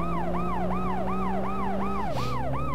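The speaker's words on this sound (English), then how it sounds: "That's an ambulance." An ambulance siren in the police-chase video game World's Scariest Police Chases wails loud and close in quick, repeating rise-and-fall sweeps over a low engine drone, with a brief burst of noise near the end.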